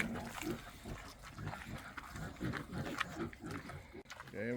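Farm pigs grunting and snuffling while being fed apples, a quiet, close cluster of low grunts against rain-like background noise, with a person talking faintly.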